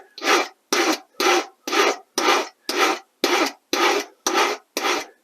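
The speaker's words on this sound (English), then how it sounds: "if you're freehand filing this, to start up a little bit, and then you can always dress it by going down" A metal hand file rasping a model railroad rail during freehand track laying, ten evenly spaced light strokes in a steady rhythm, close and clear with no talking.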